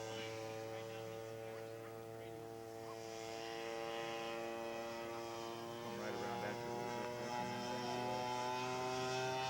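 A radio-controlled scale model airplane takes off at a scale aircraft show, its engine a steady buzzing drone with a pitch that climbs gradually and grows louder as the plane gets under way.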